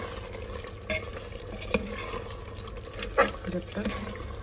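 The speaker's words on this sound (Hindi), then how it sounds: "अब हम इसको मिक्स करेंगे और 2 मिनट तक" A spoon stirs biryani masala frying in oil in a pot for Lucknowi chicken biryani, soft scraping and sizzling with a few sharper clinks under a steady background hiss.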